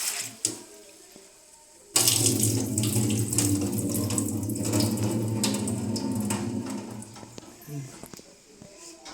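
A kitchen tap runs steadily into a sink while something is rinsed under it, the splashing water loud and continuous for most of the clip before cutting off near the end, with a person talking over it.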